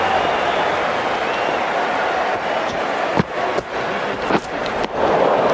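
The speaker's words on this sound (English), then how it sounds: "The crowd are loving this." A cricket crowd at the South Africa versus New Zealand Tri Series final cheers and claps in a broad, continuous roar, broken by a few sharp thumps toward the end, loud and close.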